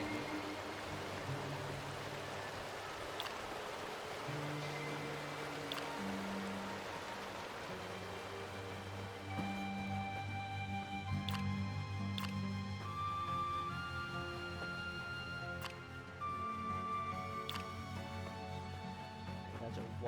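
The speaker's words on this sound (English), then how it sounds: "That's a waterfall," Waterfall in the video game Coridden, a quiet steady rushing wash of water running continuously under faint game tones.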